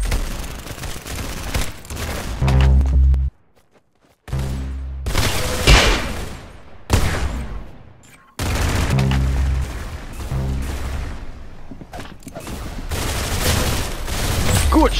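Bursts of rapid gunfire from the first-person shooter game Arsenal, dense crackling volleys broken by brief silent gaps, loud and close, with occasional voices.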